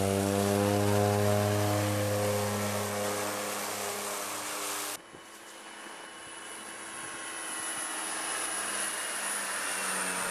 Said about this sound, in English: And then fired up the prop and they flew away.